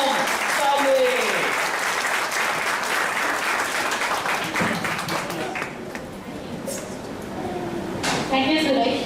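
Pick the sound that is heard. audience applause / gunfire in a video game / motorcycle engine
audience applause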